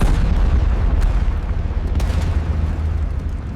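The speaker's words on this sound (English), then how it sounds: "The first shells screamed through the air." Artillery shells fire and explode in a battle, a loud, dense rumble of deep booms and blasts rolling on without pause, with no voices.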